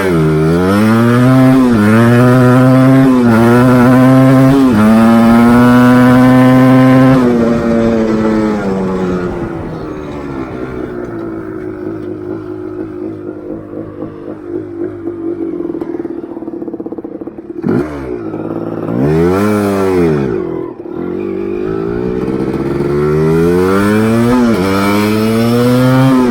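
Engine of a Tri Z three-wheeler on a ride, running loud and close, revving up and down through several surges with a brief drop-off and a sharp rev near the end.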